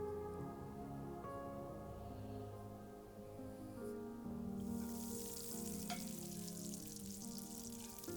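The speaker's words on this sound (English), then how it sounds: "I'm going to saute some more onions and soak up all these goodies and flavors" Onions sautéing in a pan with leftover pan juices give a steady frying sizzle, joined midway by a brighter hiss and a few stirring scrapes under soft background music, with no talking.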